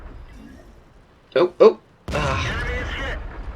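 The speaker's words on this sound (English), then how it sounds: "We just took a artillery hit that did pretty much nothing" An artillery shell striking a tank in the World of Tanks game: two short, punchy thumps followed by a loud, close crashing blast that rumbles for about a second.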